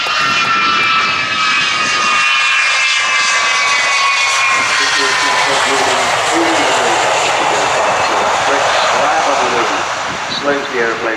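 Roaring jet engines of the Avro Vulcan XH558 bomber during a solo air display fill the air with a loud, sustained rumble and a shifting whine, while an announcer talks over it.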